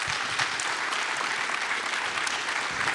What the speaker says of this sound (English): Can we have a round of applause for our panelists